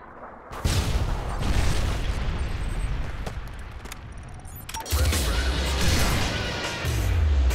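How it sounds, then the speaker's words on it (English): Heavy blasts and rumbling impacts from a Predator missile strike in a military shooter game, with loud low booms near the start and again around the five-second mark over continuous battle noise. "Predator missile inbound."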